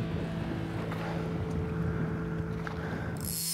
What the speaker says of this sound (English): I think we're all about tired of this wind.